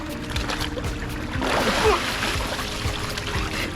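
A person plunges head-first into cold seawater, producing a sloshing splash around the middle, with ambient water noise and voices before and after.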